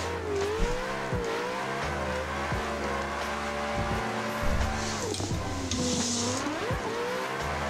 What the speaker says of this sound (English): It's very strange drifting this type of truck, but it's a classic.